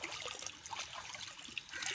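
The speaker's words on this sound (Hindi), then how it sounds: "ये उधर से ये मोटर चल रही है, ये सारा पानी इधर आ रहा है" Water pumped by a running motor flows into a village maize field, a steady, faint trickling and gurgling with no voices.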